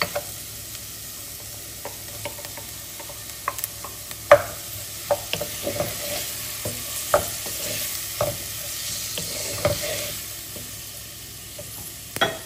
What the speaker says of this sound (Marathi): टोमॅटोज आमी सॉटे करूया सारकी सॉफ्ट जावंक जाय